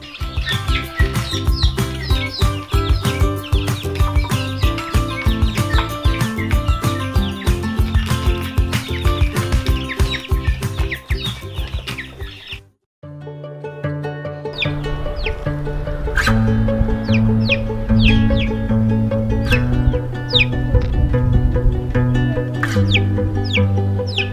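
Young bantam chicks in a coop give repeated high, sharp chirps and soft clucks over a steady tonal background. After a brief silent break midway, the chirping resumes and continues alongside the tones.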